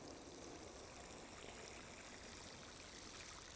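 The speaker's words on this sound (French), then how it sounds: "je vais terminer en arrosant encore un peu." Water poured onto a newly planted tree in its soil basin, a steady soft trickling stream running without pause, faint and close.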